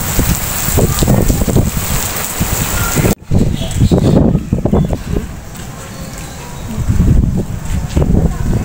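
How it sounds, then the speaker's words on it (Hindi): Steady rain falls outdoors, a dense continuous hiss with gusting wind buffeting the microphone and low rumbling bursts throughout, briefly cut off near the middle before resuming. "अल्लाह, बारिश भी हो गई है, मौसम भी बहुत अच्छा हो गया है।"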